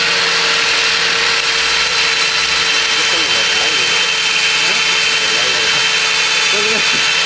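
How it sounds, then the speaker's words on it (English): A power drill whines steadily and loudly at close range, its motor pitch wavering slightly as it bites into material at an angle, cutting shallow grooves during an HHO kit install. "I'm using a drill, and you want to do it at an angle"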